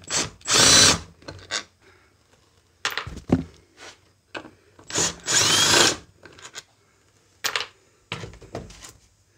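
A power drill whirs in several short bursts, removing screws from the transmission cover of a 49cc four-stroke engine, with a few clinks and handling noises in the pauses between runs.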